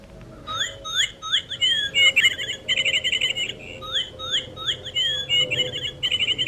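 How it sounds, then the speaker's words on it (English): A Wild Republic toy bird plays a recorded canary song: repeated bright trills and chirping phrases, steady and fairly close, running the whole time with no voices. "which also has a canary sound"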